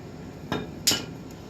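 A mason's hammer handled among masonry tools gives two sharp metallic clanks, the second louder, close by with no talk.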